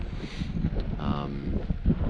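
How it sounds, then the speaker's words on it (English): Strong wind buffets the microphone in rough, uneven gusts outdoors in snowy, about 8 °C weather during a run, mixed with brief bits of talking and movement close by. "It is windy, blustery."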